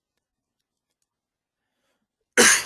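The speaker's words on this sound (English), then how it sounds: "Quick cough" A single short cough near the end, after a stretch of silence.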